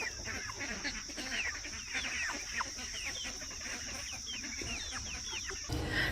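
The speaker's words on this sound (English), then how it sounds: "Chicks." Chicks on a farm chirp and cluck in a continuous busy chorus of high peeps, close and steady over a constant background hiss.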